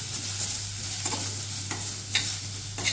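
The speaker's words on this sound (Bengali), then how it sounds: "আলুগুলো দিয়ে দিয়েছি, হালকা করে নাড়ি।" Potatoes and cauliflower frying in oil for a Bengali vegetable curry are stirred in the pan, a steady sizzle broken by several distinct scraping stirs, with a constant low hum underneath and no talk.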